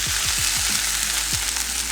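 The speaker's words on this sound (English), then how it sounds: "it's very lightly shallow frying your fish and with your spices and your onions and garlic" Fish shallow frying in a pan with spices, onions and garlic, giving a steady loud sizzle throughout, with a few soft scraping stirs near the start.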